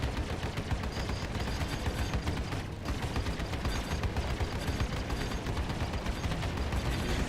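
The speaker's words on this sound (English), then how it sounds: "Firing controlled bursts" Spaceship guns in Star Citizen firing controlled bursts during a fight against a glaive target: dense, continuous rattling gunfire with steady mechanical clatter, loud and sustained throughout with only a brief dip.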